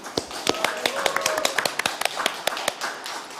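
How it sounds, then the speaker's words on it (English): Scattered applause from award finalists on a virtual video call, a loose spray of sharp individual claps and taps from a few people, fairly close and uneven in rhythm, with light chatter mixed in. "A big round of applause for our finalists."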